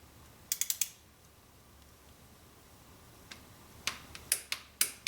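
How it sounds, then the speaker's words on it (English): Torque wrench clicking while tightening a spark plug on a Mini Cooper, with a quick cluster of sharp ratcheting clicks followed by a pause, then several more separate clicks, all close and fairly quiet with no talk. "we'll just put this in here and we'll turn it till we get the click"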